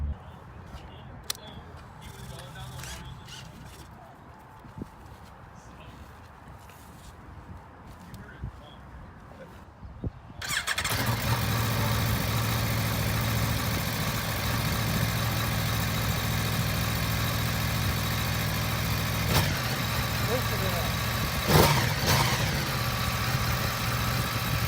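A 2019 Aprilia Tuono 1100 Factory motorcycle sits in quiet ambience before its engine fires up abruptly and settles into a loud, steady idle, with a couple of blips later on.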